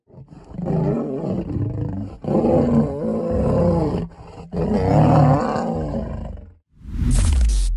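A lion roars in long, loud, close bursts, three heavy rumbling roars separated by brief pauses, followed by a sharp final burst, with no voices.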